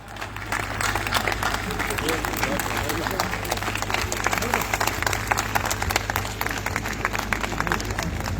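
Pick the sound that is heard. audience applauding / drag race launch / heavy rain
audience applauding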